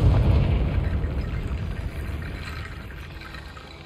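A Confringo spell blast in Hogwarts Legacy: a deep, rumbling explosion that starts loud and decays into a broad roar with debris-like crackle, fading over a few seconds with no voices.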